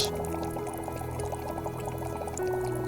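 Hot water poured into a cup, a steady close liquid rush running throughout with a slight rise in level near the end, no voices over it.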